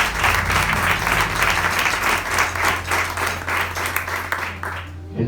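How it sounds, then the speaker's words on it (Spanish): A church congregation bursts into loud, sustained applause for the Lord during a sermon on the Lord's Supper, dense rhythmic clapping over a low steady hum that cuts off abruptly at the end. "Denle un fuerte aplauso al Señor."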